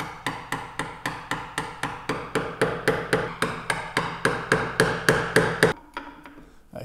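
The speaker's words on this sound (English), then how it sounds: "pop the chisel in the leftover lines that I haven't quite cut to here" A chisel is driven into wood with about twenty evenly spaced mallet blows, sharp and close, while cutting a mortise and tenon haunch, then the blows stop and a softer scrape follows.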